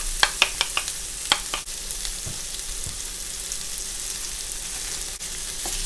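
Aromatics for pepper shrimp stir-fried in a pan, a bright continuous sizzle close up with a quick run of spatula taps and clinks early on.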